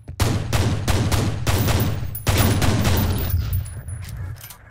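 Rapid pistol fire in the video game F.E.A.R. sounds as dense, loud bursts of shots in two long volleys, the second tapering into echoing decay, with no talking.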